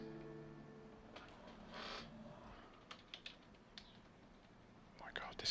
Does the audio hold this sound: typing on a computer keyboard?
yes